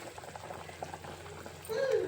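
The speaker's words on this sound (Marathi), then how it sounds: "तर बघा मस्त अशी छान उकळी आलेली आहे" Egg curry masala simmering in a clay pot gives a soft, close bubbling that grows fuller in the final moments, with no voices.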